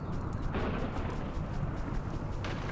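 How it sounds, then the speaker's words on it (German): Rain in the video game Rimworld, a dense, steady hiss of falling water with low rumbling underneath, continuous and fairly loud throughout. "Es regnet. Es regnet."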